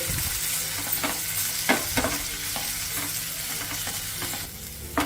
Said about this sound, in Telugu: ఒక టీ స్పూన్ అల్లం వెల్లుల్లి పేస్ట్ కూడా వేసేసుకొని పచ్చి వాసన పోయే వరకు ఫ్రై చేసుకోవాలి